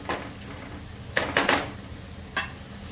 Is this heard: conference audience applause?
no